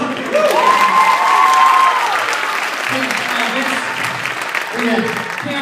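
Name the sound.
applause and cheering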